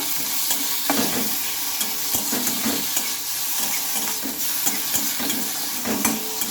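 Garlic, green chili and ginger stir-fried with onion in a pan, a constant loud sizzle broken by repeated spatula scrapes and stirring knocks throughout.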